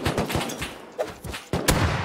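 A grenade explodes in a raiding video game after being thrown over a wall, heard as a few sharp blasts and bangs in quick succession within about two seconds, moderately loud and with no talk.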